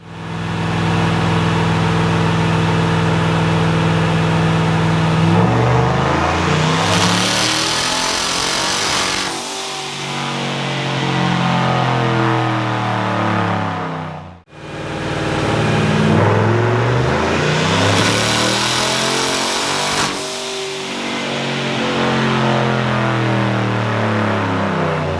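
A turbocharged 2017 Chevrolet Silverado engine roars through two full wide-open pulls on a dyno, climbing steadily in pitch and loudness, dropping off briefly, then revving up hard again, close and loud without talk.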